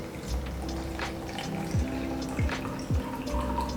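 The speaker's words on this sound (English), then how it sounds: "Now we'll measure the second batch of water with 80 ml." Water is poured into a measuring cup while making cold-process soap, a continuous close trickling and dripping with gurgling bubbles as the cup fills.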